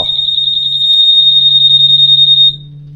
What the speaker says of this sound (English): Then if somebody moves it, it sets the alarm off.